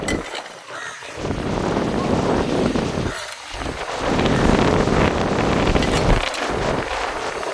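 Strong, gusty wind on a beach roars and buffets the microphone, rising and falling in heavy waves with brief lulls.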